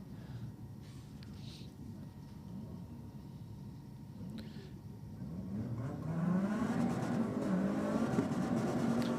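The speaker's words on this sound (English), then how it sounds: "This is a little N14 Pulsar. Definitely maximum effort right in the burnouts tonight." A Nissan N14 Pulsar race car does a burnout at a drag racing event, the engine rising from a distant rumble into a louder sustained revving roar partway through.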